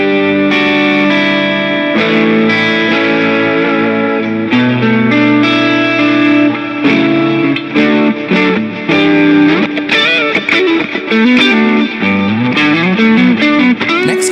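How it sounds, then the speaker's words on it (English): An electric guitar runs through an overdrive pedal and a delay pedal, giving a smooth, fluid rock lead line with sustained notes, bends and echoing repeats, loud and continuous. "Next combination is a drive with the delay, which will give you a very smooth, fluid rock sound"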